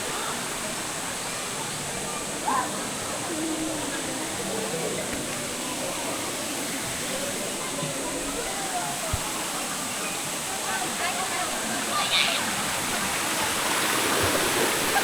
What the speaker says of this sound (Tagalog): Yan ang Daranak Falls.